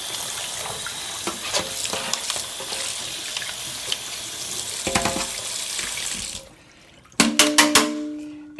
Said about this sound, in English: Run it under some hot water.